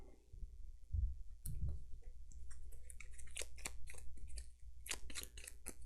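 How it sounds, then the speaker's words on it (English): Rapid crisp clicking and flicking of Gloomhaven board game cards being shuffled close by, starting with a few soft taps and building into dense riffling snaps, with no talk. "This has to get shuffled."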